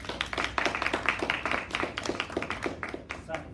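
Audience applause fills a packed clubhouse at an inspirational speaking event, a dense crowd of hands clapping steadily and fairly close, with a few louder individual claps standing out before it begins to thin near the end.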